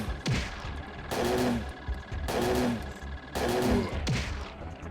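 Gunfire from the survival horror game Parasite Eve 2 comes in three loud, rapid bursts about a second apiece, separated by short gaps, with no talk.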